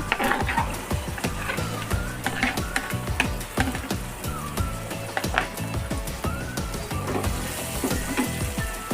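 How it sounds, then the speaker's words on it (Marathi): Chopped onion fries in a pan with a pinch of salt while cooking a chigalichi bhaji, giving a steady crackling sizzle that runs throughout alongside constant background tones. "दोन ते तीन मिनिट कांदा फ्राय करून घ्यायचा"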